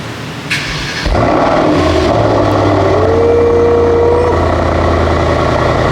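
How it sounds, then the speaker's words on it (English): A Mercedes-AMG E63 S engine fires up on a cold start and settles into a loud, steady rumbling idle, with a deep exhaust drone close to the microphone. "trying to hear this exhaust on a cold start"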